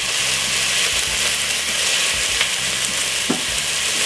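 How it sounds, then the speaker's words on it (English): Vegetables frying in a pan for Jamaican fry fish sizzle steadily and loudly while being stirred, with occasional scrapes of the utensil against the pan. "Give it a stir."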